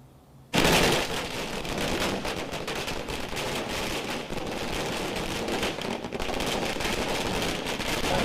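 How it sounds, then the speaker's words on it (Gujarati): Fireworks crackle at a BJP election victory celebration in Sayajiganj, Vadodara, a dense, continuous burst of rapid bangs that starts abruptly and rattles on loudly, like a long firecracker string, for about eight seconds. "ભવ્ય જીતની ઉજવણીમાં આતશબાજી પણ કરાઈ।"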